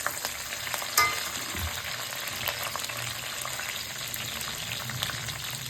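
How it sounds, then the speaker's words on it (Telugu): Green chillies frying in a pan over a low flame give off a soft, even sizzle with a sharp clink near the start and light stirring, fairly quiet and close. "రెడీ పెట్టుకున్న మిరపకాయలు కూడా వేసి సిమ్లో పెట్టి"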